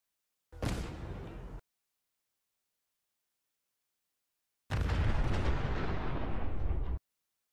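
Two loud grenade explosions go off: a short sharp blast, then after a silent gap a longer, heavier roaring detonation that fills the space before cutting off.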